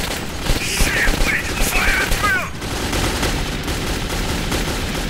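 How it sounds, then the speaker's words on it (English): Sustained bursts of gunfire in the video game Metro 2033, dense and loud throughout, with rapid overlapping shots, a few whistling high tones in the first half and a steady noisy wash after. "Why are you shooting at them?"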